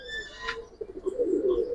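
Pigeons at a crowded pigeon market give soft, throaty coos that rise and swell near the end. A brief higher chirp comes first and no one speaks.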